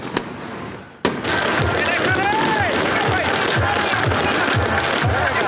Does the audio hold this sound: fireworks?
yes